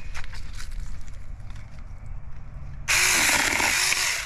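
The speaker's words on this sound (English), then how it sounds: "this is me learning to use a chainsaw" A Saker mini electric chainsaw bursts into a loud, steady, buzzing cut through a tree branch after a stretch of quieter outdoor background noise.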